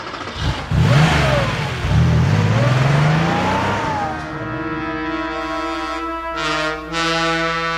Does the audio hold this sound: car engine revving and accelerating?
yes